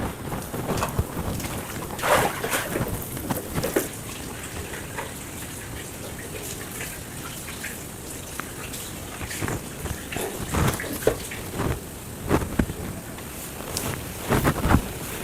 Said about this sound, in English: You fry until it is golden brown.